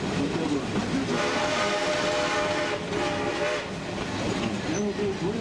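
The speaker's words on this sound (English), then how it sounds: "narrow gauge railroad built here in the Colorado Mountains" The Georgetown Loop narrow gauge railroad train rumbles and clatters along a Colorado mountain line, with sustained horn tones sounding over the steady rolling noise of the cars.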